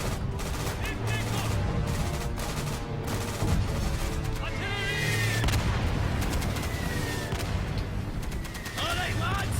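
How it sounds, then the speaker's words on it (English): Artillery barrage in a war video game, a dense roll of booming impacts and gunfire layered with music and shouted voices, loud and continuous throughout. "Request immediate barrage on objective Able."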